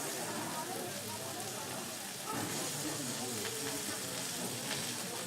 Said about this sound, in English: a nice little sizzle